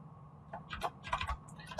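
Close, quiet keystrokes on a computer keyboard as an address is typed into a search bar, a quick irregular run of light clicks.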